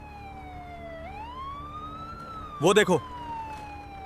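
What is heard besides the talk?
ambulance siren approaching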